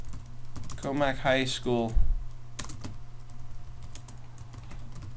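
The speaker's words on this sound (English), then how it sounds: "If I could type and talk at the same time, it would be helpful." Clicks from a computer keyboard tap on in an irregular stream, close and moderately loud, with a brief spoken phrase early on over the typing.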